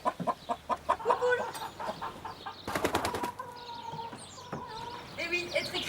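Hens clucking in short bursts, close by, with brief wing flapping and scattered calls. Faint background noise underneath.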